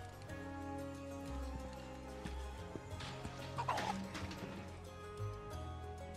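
Chickens clucking in Final Fantasy 7 Rebirth, heard amid game music and ambient effects, with a brief burst of louder activity midway through.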